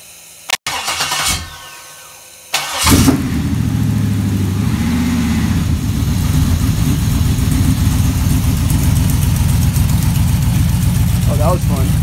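An LQ4 6.0-liter V8 mounted on a bench cranks briefly, stops, then cranks again and catches, settling into a loud, steady, slightly lumpy idle close by with a voice speaking over it.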